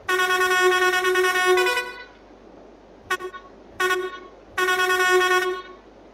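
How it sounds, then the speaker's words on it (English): A vehicle horn in Farming Simulator 22, a Basuri horn, blares in one long sustained honk, then gives three shorter toots after a pause, loud and close with no talking. "So when I press the horn"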